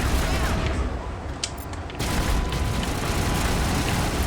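Turret gunfire in the Mass Effect video game, a dense, loud barrage of rapid shots and booming impacts that continues almost without pause throughout.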